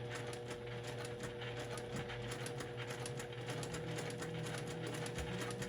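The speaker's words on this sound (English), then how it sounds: "And sew right along the edge" A sewing machine stitches a quilt block at a measured pace, its needle producing a fast, even mechanical clatter with a steady motor hum underneath, close and moderately quiet.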